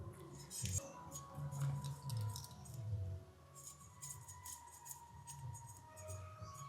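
A boti blade slices through large puti fish in a home kitchen, giving a run of short scraping, crunchy cuts and clinks that come close and fairly loud, with quieter gaps between them.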